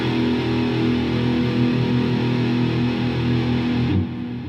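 A thick, sustained wall of heavily overdriven electric guitar through a Fender Mustang III amp's overdrive model, with slight delay and reverb, rings out loud and steady, then cuts off abruptly near the end.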